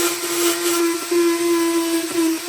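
A power tool spins a polishing wheel against a chrome latch from an old Billings tool box, giving a steady close whirring hum with slight dips where the wheel catches the metal.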